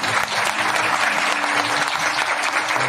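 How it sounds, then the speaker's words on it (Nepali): A church congregation claps steadily for the Lord after a sermon line, dense sustained applause filling the whole moment with no voices on top. "प्रभुलाई ताली र धन्यवाद"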